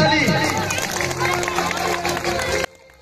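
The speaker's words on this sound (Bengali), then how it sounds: "জোরে হাততালি" Loud, dense applause and crowd noise fill a sports club prize ceremony in Panchla, Howrah, as a runners-up trophy is handed over, clapping sustained and close before cutting off abruptly near the end.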